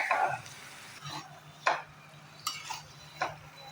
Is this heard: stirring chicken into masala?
yes